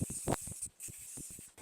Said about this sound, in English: I'm going to spray paint all 4 of these assemblies before we do anything else